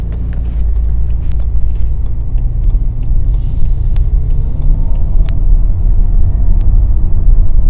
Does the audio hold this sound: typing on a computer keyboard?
no